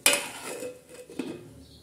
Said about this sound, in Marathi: आता आपण मस्त त्याच्यावर झाकण ठेवू, म्हणजे मस्त शिजवते